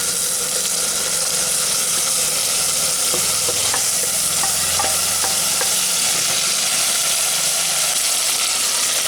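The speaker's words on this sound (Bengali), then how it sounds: "এই মাটনটাকে আমি প্রেসার কুকারের মধ্যেই একটু ভালো করে কষিয়ে নেব।" Marinated mutton sizzles loudly in hot oil inside a pressure cooker, with a steady dense frying hiss throughout and occasional clinks of a spatula stirring the meat; no talking.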